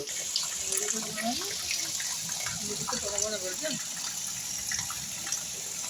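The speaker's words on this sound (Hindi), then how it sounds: "यहाँ अम्मा की छत पे देखो कितनी तेज धारा पानी बह रही है" Heavy rainwater pours off a village house roof in a strong stream, making a continuous, even gushing rush with faint voices in the background.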